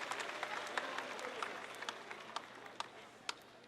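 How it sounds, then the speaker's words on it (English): Parents and guests in a high school graduation audience applaud: a continuous wash of clapping heard from some distance, with a few sharper individual claps standing out near the end. "please give yourselves a round of applause for the great accomplishments of your son or daughters"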